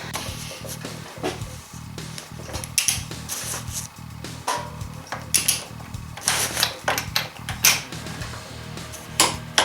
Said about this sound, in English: now we need to torque down this center nut here